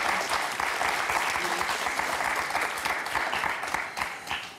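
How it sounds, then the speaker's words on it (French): Steady, dense studio audience applause on the French TV word game show Motus, loud and continuous throughout before easing slightly near the end, with no talk over it. "Applaudissements, s'il vous plaît."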